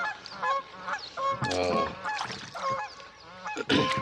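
Geese honk repeatedly in a lively, overlapping chorus at a lakeside, loud and close, with a few deep calls mixed among higher ones.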